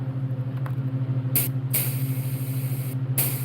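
An airbrush sprays paint in two short hissing bursts, near and fairly loud, over the steady low hum of a running compressor.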